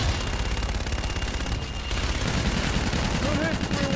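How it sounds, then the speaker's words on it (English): Aircraft strafing gun run in Call of Duty: Infinite Warfare, a continuous dense rattle of rapid cannon fire under radio chatter, with a brief dip midway before the burst resumes. "Inbound for gun run. Guns, guns, guns!"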